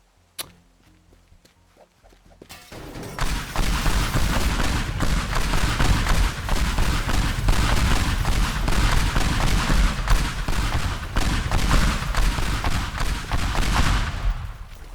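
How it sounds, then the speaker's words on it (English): Fireworks show in the Teardown video game: after a quiet start, a dense, loud barrage of crackling bursts and booms erupts and continues without letup. "Oh look, fireworks show."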